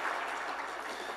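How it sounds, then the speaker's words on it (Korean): Applause from a church congregation welcoming newcomers at a Sunday service, a brief steady wash of many hands clapping with no talking. "우리 큰 박수로 환영하겠습니다."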